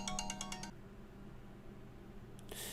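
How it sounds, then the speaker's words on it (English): A quick rapid series of bright chiming pulses, a phone's SMS verification alert while setting up a Google Home Hub, rings out briefly at the start, then quiet room hiss and a faint clatter near the end. "It's sending me an SMS to verify."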